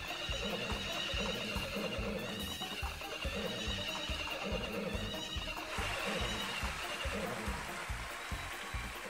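Horse race in the Story of Seasons: Friends of Mineral Town video game, with repeated neighs and whinnies over a steady galloping clip-clop rhythm and a dense, continuous crowd-like background throughout.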